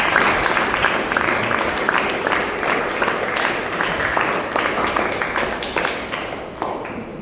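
Sustained crowd applause welcoming guests at an orphanage gathering at Bandra Bandstand, many hands clapping steadily and fairly close, tapering off toward the end.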